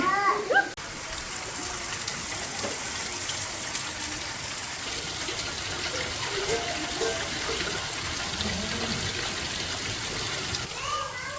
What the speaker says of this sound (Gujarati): એટલો વરસાદ શરૂ છે